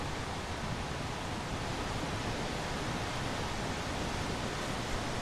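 Falling Spring Falls in the Alleghany Highlands pours in a constant, dense roar of falling water, broadband and unchanging, heard up close with no other sounds.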